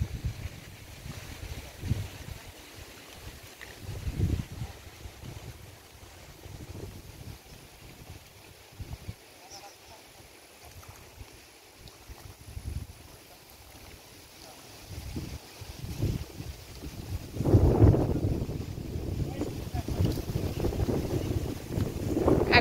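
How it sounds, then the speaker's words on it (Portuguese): Strong, gusty wind blows through trees at a fishing spot as a rumbling roar that rises and falls in waves, then swells louder and stays heavy near the end. "Agora começou um vento aqui."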